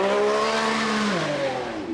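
A Lamborghini Revuelto hybrid supercar engine revs loud and close, its pitch climbing and then dropping as it winds down, with no speech over it.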